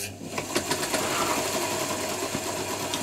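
A Singer 201K sewing machine, freshly oiled and being revived with a loose part that clunks, runs continuously up close with a steady whirring motor hum and light rhythmic mechanical ticking.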